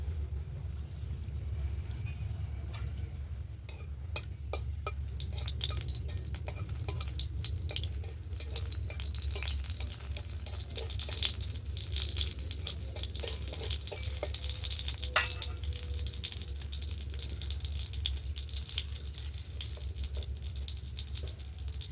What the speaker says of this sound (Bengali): লঙ্কা ভাজা হয়ে গেছে